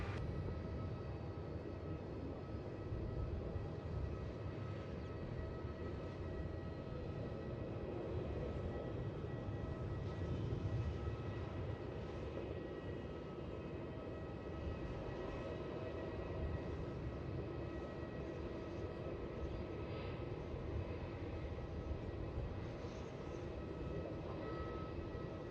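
Jet airliner taking off from Melbourne Airport toward the south, a steady, fairly distant engine roar holding at an even level throughout with no talk.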